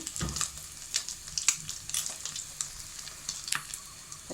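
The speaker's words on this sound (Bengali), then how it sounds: "একটু লাল লাল করে ভেজে নিলে" A homemade snack frying in hot oil until reddish, a soft steady sizzle with intermittent bright crackles and the occasional stir, fairly close and alone.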